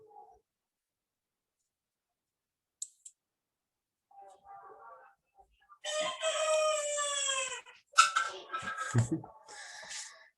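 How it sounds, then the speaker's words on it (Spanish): A rooster crows once nearby, a long, loud, strained call, followed by a few sharper squawks and scattered clicks in an otherwise quiet room, with no talking. "Creo que mi gallo quiere responder."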